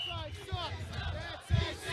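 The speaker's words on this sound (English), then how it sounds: "we are getting ECW chants here from the crowd." Wrestling crowd at a hardcore-rules match chanting ECW, a loud rhythmic mass of voices rising and falling in repeated shouts, with a booming accent near the end.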